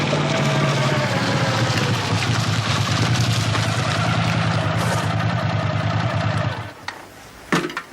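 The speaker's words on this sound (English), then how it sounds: "I reckon I've heard that cracked muffler somewhere before" An engine idles with a cracked muffler, giving a loud, rough, steady rumble that runs for most of the stretch and then cuts off abruptly, leaving a few faint knocks.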